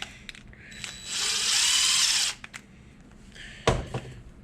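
A bolt is driven into a Harbor Freight winch build with a power tool. A whirring burst lasts about a second, then goes quiet before one sharp metallic clank and a few small knocks.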